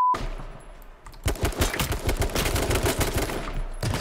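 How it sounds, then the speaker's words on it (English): Automatic gunfire in H1Z1 rattles in quick repeated bursts after a brief quiet start, loud and close, the shots pulsing in a fast uneven rhythm to the end. "Sorry, I shot you, Matt."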